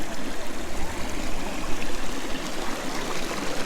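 A stream flows past a campsite at Uksan, a steady, close, rushing burble of water with constant texture and no voices.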